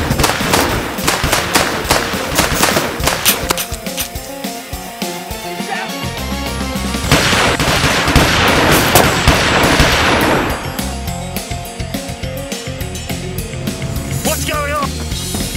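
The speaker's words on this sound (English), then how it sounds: "Huge amount of gunfire, old son." Heavy gunfire in a thriller film scene, rapid bursts of sharp shots in clusters with loud blasts, dramatic music and brief stretches of calmer sound between volleys.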